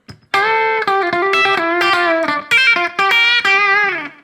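Electric guitar through a Line 6 Helix with a custom Mesa preset and Mesa impulse response, slap delay and room reverb, playing sustained harmonically rich notes and chords at steady loudness for about four seconds, with brief gaps between phrases.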